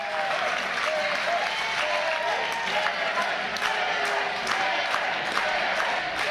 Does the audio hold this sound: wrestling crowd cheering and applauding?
yes